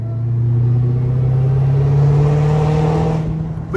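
A Dodge Hellcat rolling along a narrow back road, its engine holding a loud, deep, steady rumble close by that swells slightly and then eases off near the end.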